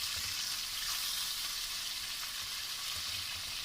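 Fish frying in a pan, seasoned with basic masalas and browned golden on one side before being turned over, giving a steady, close hiss of sizzling oil with soft low thumps from the turning and no talk.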